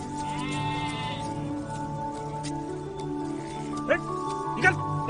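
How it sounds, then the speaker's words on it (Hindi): A young goat bleats in a wavering, nasal cry at the start, close and fairly loud, followed by people talking and shouting on a rural work site. "वो देख बकरी का बच्चा घुसा है"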